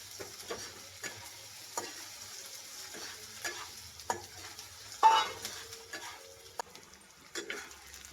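Onion and capsicum with spices being stirred in a frying pan for a leftover-roti snack, with a soft steady sizzle under repeated scraping taps of the spoon at a close distance and no talking.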